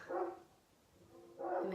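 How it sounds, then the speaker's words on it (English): A dog barking indoors, two short loud barks or yelps separated by a brief quiet gap, fairly close, with no talking. "my dog won't stop barking"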